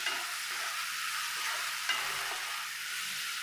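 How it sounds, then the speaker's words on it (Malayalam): Masala and onions for chicken curry sauté in a pan, giving a constant close sizzling hiss with faint scrapes of stirring throughout and no voices. "പിന്നെ ഇതൊന്ന് നല്ല പോലെ ഒന്ന് വഴണ്ട് വരട്ടെ."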